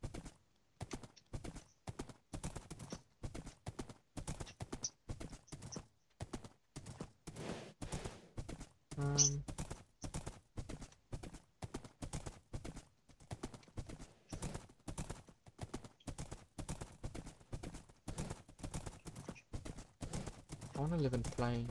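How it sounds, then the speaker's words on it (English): Horse hooves clip-clopping in Minecraft, a fast regular run of hoof clicks continuing for a long stretch, with a brief whinny midway and people talking over it. "You know we just passed a horse, right?"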